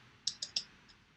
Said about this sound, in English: and I type in